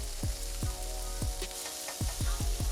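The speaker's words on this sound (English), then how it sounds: "After our potatoes have boiled for about 3 minutes, we gonna get them on top of our griddle." Parboiled potatoes on a hot griddle, a steady sizzle broken by a series of sharp, dull knocks from a spatula or utensil striking the surface, fairly close.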